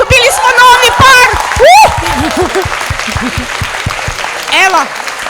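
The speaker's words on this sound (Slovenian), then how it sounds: "En velik aplavz, dobili smo novi par!" A school audience in Ljubljana bursts into loud applause for a new pair, with close clapping mixed with cheers, whoops and high excited shouts, plus crowd chatter throughout.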